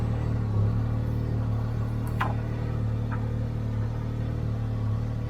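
A Ford Maverick drives with a low, steady engine rumble and road hum from inside the cabin, plus a brief faint chirp partway through.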